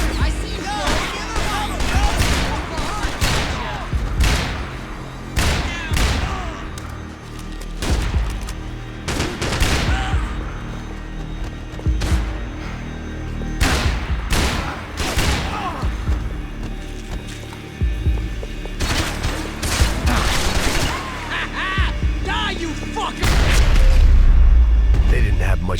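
Video game gunfire from Max Payne 3 crackles in dense volleys of sharp shots and bursts, with booms and impacts throughout, while characters shout in the middle of the firefight.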